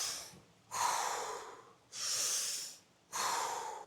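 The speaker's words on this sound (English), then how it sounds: "a heavy form of hyperventilation, like for instance the Wim Hof method" Heavy, rapid hyperventilation breathing in the style of the Wim Hof method: three loud, forceful breath bursts of about a second each, separated by short pauses, close and alone with no talk.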